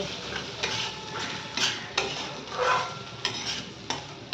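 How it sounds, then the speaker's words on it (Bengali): Food frying slowly in a pan with very little oil: a steady, close sizzle broken by repeated scraping stirs of a spatula against the pan. "এটা আস্তে আস্তে ভাজবো।"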